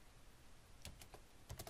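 Typing on a computer keyboard, a few quiet close clicks in an uneven burst over low background noise.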